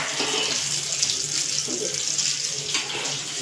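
Homemade burger patty frying in oil that is not yet fully hot: a steady, loud broadband sizzle and crackle runs continuously throughout, with no talk over it.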